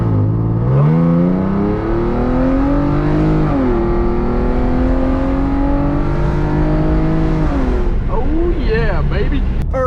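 Hyundai Genesis Coupe 3.8 pulling hard through the gears, its loud engine note climbing in pitch with brief dips at the shifts, close and continuous, with a voice briefly near the end.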